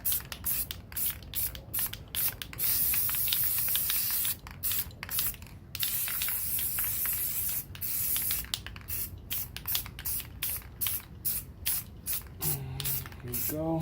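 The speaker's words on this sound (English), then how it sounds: "Just take the black paint spray paint and just kind of go over the edges." Black spray paint hisses from an aerosol can in repeated short bursts along the edges of a guitar body laid over a template, the spray close and steady with brief pauses between passes.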